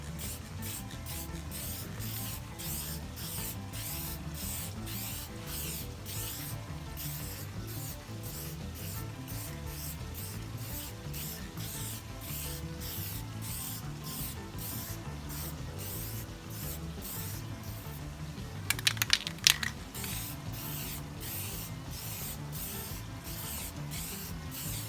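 An aerosol rattle can hisses in short repeated bursts, close and steady, spraying onto masked-off headlights, with a brief rattling clatter partway through.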